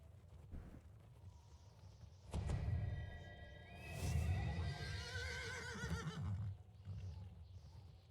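A horse in a video game whinnies twice, a short neigh followed by a longer, louder trilling whinny, with faint hoof clops and low background sound and no talking over it.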